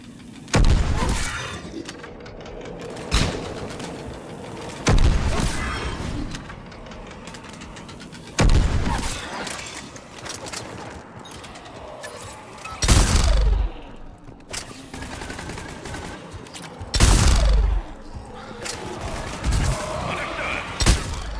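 Gunfire in a shooting gallery in Mass Effect 3, with sharp, loud shots and impacts arriving every few seconds over a lower rumbling background and some intermittent voice.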